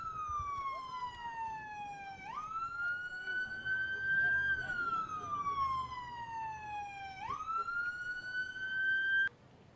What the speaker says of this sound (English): You hear loud sirens at the moment.